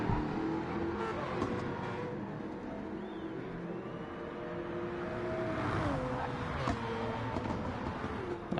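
GR3 race cars lapping at Spa during a 24-hour sim-racing event, engine whine rising and falling as one car closes on and passes another, steady and fairly faint.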